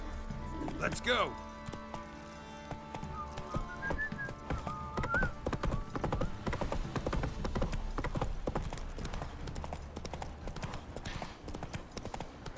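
Roach, a horse in The Witcher 3, trots with steady clip-clop hoofbeats throughout, close and clear, with a brief whistle early on and talk plus game sounds layered over the hooves.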